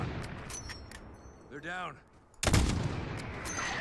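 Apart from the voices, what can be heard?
mortar and gunfire in video game Call of Duty Modern Warfare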